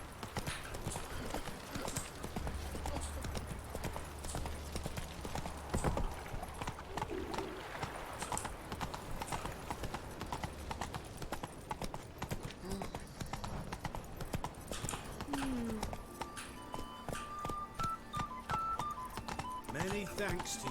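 Roach, the horse in a Witcher video game, trots with steady clip-clop hoofbeats at middle distance, amid game ambience and a voice speaking at a low level.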